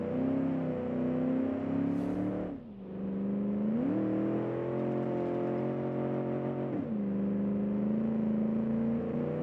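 A fast pony car in the BeamNG driving game revs and pulls hard, its engine note rising through the gears with two brief dips at shifts, loud and continuous with no talking.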